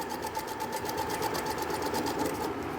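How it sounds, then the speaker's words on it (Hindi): A sewing machine stitches cord piping at a slow pace, giving off a quiet, steady mechanical whir with an even rapid ticking rhythm that runs without a break, and no voices. "अब सिलाई अगर आप जल्दबाजी करोगे तो हो सकता है वो चढ़ जाए, लेकिन बिल्कुल धीरे धीरे सिलाई लगाओ"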